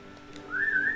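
A short whistle from the PS2 game Robin Hood's Quest: a faint, single tone rising in pitch over half a second, heard alone against a quiet background.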